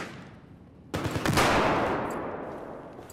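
Sustained burst of automatic gunfire in Battlefield 4 multiplayer combat, starting abruptly after a quiet lead-in and rolling on loudly for about two seconds before tapering into a reverberant tail.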